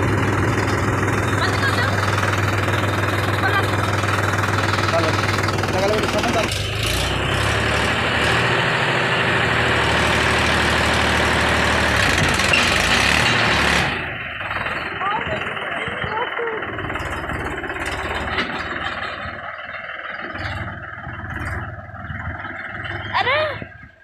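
A Mahindra 275 DI tractor runs in fourth gear with a steady, heavy diesel drone that drops in intensity midway, close and continuous while people talk nearby.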